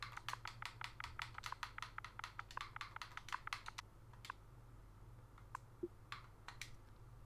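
Fingers tap out a cheat command on a computer keyboard for the game Pixark, a quick run of close, crisp keystrokes that thins to a few scattered clicks toward the end.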